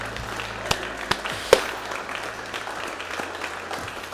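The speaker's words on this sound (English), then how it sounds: "the applause from our team" A Rocket Lab mission control team applauds payload deployment after the burn, a steady patter of clapping with a few sharp louder claps standing out over a low room hum.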